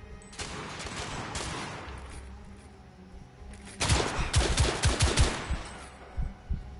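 Gunfire from The Order: 1886 crackles in a sparse volley, then a loud, rapid burst of shots follows after a lull, with a few scattered shots trailing off near the end.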